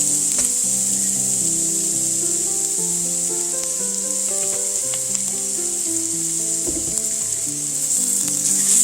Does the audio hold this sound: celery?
yes